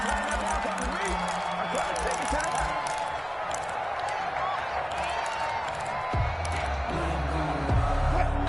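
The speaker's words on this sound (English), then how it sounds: "It is deafening in here." Stadium crowd roar from a PS4 American football game with the Seahawks on offense, a loud, continuous rumble of cheering that carries under steady commentary speech throughout.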